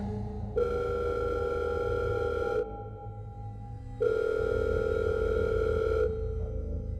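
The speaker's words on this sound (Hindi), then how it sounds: "पॉकेट में रखा उसका फोन दोबारा बजा" A telephone rings in two long, steady electronic tones with a pause between them, loud and close.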